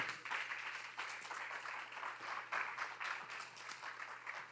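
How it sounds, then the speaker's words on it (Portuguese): A church congregation claps loudly for Jesus in a dense, surging wave of applause over a low steady electrical hum, the clapping rising and falling in loudness but never stopping. "Aplauda forte a Jesus se você crê"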